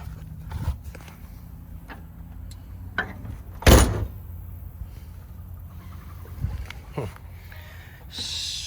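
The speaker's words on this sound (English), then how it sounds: "I'm gonna try closing the door now with this factory roof seal in place" The door of a 1989 Chevrolet Camaro, third generation, with its factory roof seal fitted, shuts with one solid thump midway, amid faint handling noises and soft shuffling in a quiet garage-like space.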